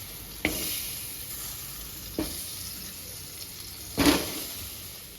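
Chopped tomatoes frying in oil in a pan for a mango chutney, a steady soft sizzle with a few sharp crackles and a louder spit near the end, no talking.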